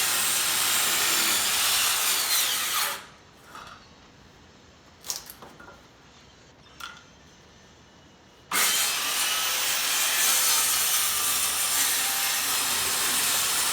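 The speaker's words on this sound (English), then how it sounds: "Now using a circular saw I'm going to make the cuts as shown in the diagrams" A circular saw cuts through a wooden pallet with a loud, steady whine. The whine drops away for several seconds with faint knocks, then comes back at full strength, close and continuous with no talking.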